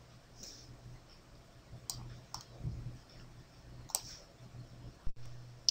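Computer mouse clicks during work in 3ds Max, a handful of sharp, quiet, isolated clicks spread over several seconds against a low steady hum.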